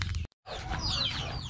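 Farm chickens being fed make a short burst of clucking that cuts out briefly, then returns as busy overlapping clucks and chirps nearby.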